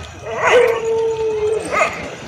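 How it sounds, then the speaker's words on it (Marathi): A village dog gives a drawn-out, whining howl-like bark, followed by a shorter yelp, fairly close and loud. "तुझ्यामुळे कुत्री सगळी भुंका लागल्यात"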